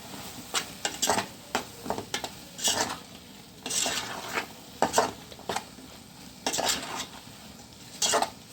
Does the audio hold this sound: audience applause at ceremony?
no